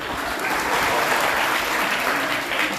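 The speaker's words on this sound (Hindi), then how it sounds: "तालियां बजाइए उनके लिए।" An audience bursts into sustained applause, a loud, dense and even wash of many hands clapping together from start to finish.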